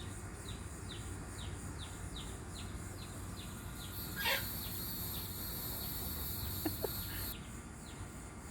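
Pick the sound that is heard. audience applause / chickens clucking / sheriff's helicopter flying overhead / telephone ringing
chickens clucking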